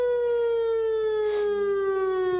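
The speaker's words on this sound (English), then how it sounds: "Across Missouri, sirens are generally sounded for about 3 minutes, not until the threat ends." A civil defense outdoor warning siren sounding for a storm in Missouri, a loud sustained tone slowly sliding downward in pitch, strong and steady throughout, with no voices.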